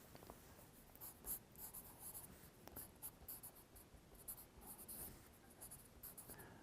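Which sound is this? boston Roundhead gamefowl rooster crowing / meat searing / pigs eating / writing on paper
writing on paper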